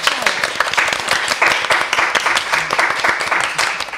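A crowd claps steadily in a dense, continuous burst of applause that stays loud throughout.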